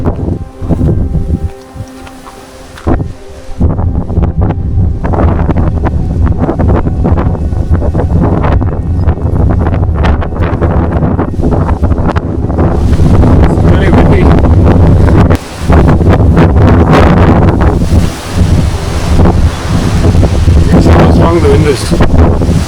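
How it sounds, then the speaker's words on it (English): Strong, steady wind roars across an exposed hilltop on the Makalidurga hill and fort trek, buffeting the microphone with loud, continuous gusts and rumble that barely let up. "The wind is blowing the things up."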